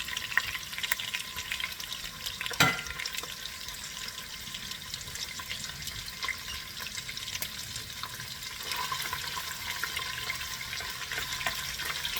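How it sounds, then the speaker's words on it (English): Diced bacon frying in a pan, a faint, steady crackling hiss that continues throughout with a few louder pops, heard alone without talk. "fourth of a pound of bacon that you diced up into 1/4 inch pieces. And we're going to cook them."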